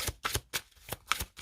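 A deck of oracle cards being cut and handled, a few quick papery riffles and slaps in a short close burst, no talking.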